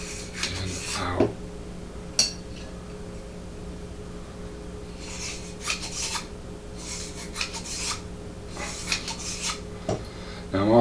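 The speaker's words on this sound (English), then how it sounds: "Now I'm also going to kind of rub it here, the feed ramp." A small wire brush scrubs the feed ramp of a Taurus PT 101 pistol during cleaning, giving bursts of dry, rasping strokes with short pauses between them, close up over a steady low hum.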